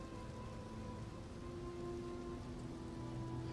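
Steady rain pours continuously in a video game boss area, a dense even hiss with no pauses.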